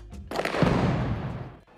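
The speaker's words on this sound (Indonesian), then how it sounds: "terdengar suara ledakan dari luar." A single burst of an explosion heard from outside a hotel during a civil war, with a quick onset and a broad rumbling roar that fades over about a second.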